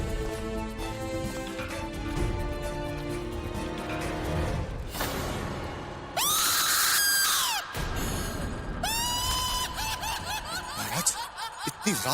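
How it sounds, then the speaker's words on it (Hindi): Woman screaming at night, with shrill wavering screams that break out after a stretch of murmuring and snickering sounds, loud and close, then repeating in rising and falling cries. "इतनी रात गए औरत की चीखने की आवाज"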